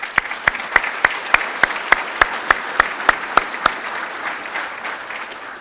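Evenly spaced, sharp claps, about a dozen in slow, measured rhythm, ring out at a town State of the City address, then stop, leaving a faint room murmur.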